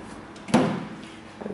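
A drawer in a piece of living-room furniture in a renovated apartment slides open with a single quick scrape and thud, followed by faint quieter knocks.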